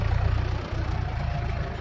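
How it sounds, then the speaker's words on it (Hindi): Tractor engine running continuously in a rural setting, a steady low rumbling drone throughout, fairly loud and close, with no talk. "खाना खाने के बाद अभी ट्रैक्टर जो है लगातार चालू है"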